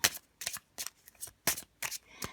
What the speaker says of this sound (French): nous allons commencer avec le petit Lenormand, donc déjà avec la coupe